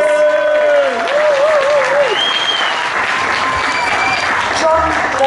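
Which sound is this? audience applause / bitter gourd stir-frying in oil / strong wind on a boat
audience applause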